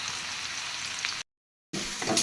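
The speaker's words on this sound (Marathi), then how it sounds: "अगदी मिनिटभर हे परतून घेऊयात" Cumin and green chili thecha sizzle and fry steadily in a hot pan, a dense crackling hiss that cuts out briefly and then resumes with light stirring.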